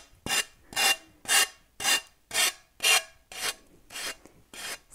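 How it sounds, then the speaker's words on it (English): A hand-held sanding block is rubbed over a reverse-decoupaged surface in about nine even back-and-forth strokes. The rasping comes close and clear with short pauses between strokes, and nothing else is heard. "I'm just gonna go with my sanding block here."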